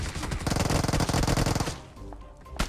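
Gunfire from a weapon in a video game, a loud rapid automatic burst that runs for over a second and a half, then trails off into scattered fainter shots.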